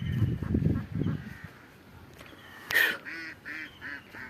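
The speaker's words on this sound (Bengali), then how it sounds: "এখানে হাঁস" Ducks at a farm with a cattle shed give a short series of nasal honking calls in the second half, fairly close, after some low rumbling noise.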